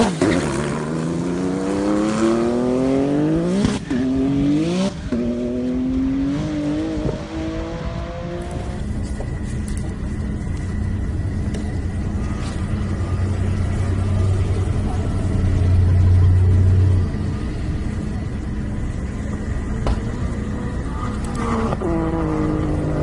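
A high-power Porsche 997 on a half-mile run roars through rising gear-by-gear engine sweeps for several seconds, then gives way to steady, loud wind and road rush as it carries speed.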